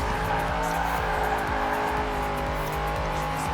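A car accelerates hard in Forza Horizon 4, its engine note climbing through repeated gear shifts with tire noise underneath, loud and continuous without speech.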